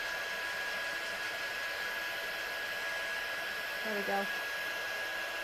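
Watercolour paint is dried with a hair dryer that blows a steady, even whoosh from start to finish, with a brief spoken remark near the end.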